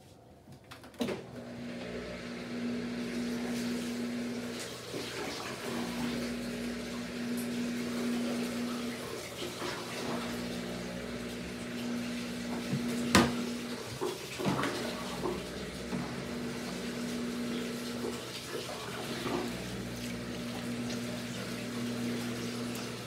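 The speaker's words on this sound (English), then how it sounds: "Watch the drain right here, because it's got a drain pump on it." The drain pump of a portable washing machine pushes out water after washing towels, giving a steady motor hum with pulsing tones and a gurgling water rush. It runs close and continuous, without speech.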